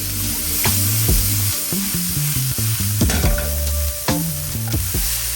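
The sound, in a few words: shallots, capers and minced garlic sizzling in a pan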